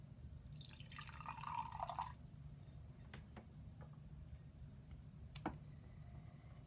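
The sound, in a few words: pouring a drink into a cup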